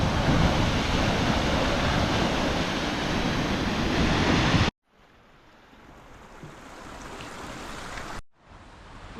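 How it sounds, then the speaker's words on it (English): Rushing water from an Icelandic waterfall roars as continuous broadband noise, loud at first, then quieter and more distant after an abrupt cut. "Waterfall number 1."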